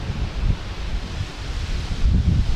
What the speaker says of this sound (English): It's gusting quite a lot.